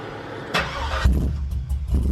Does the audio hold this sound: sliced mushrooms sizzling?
no